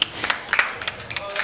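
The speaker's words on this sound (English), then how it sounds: "As the JD's crowd goes wild." A small crowd claps at a pool club exhibition match, a short burst of scattered hand claps close by, mixed with voices talking over it.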